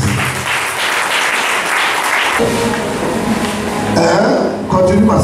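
A church congregation applauding to acclaim the Lord Jesus, sustained clapping that fades midway and gives way to voices and a ringing tone as the applause trails off.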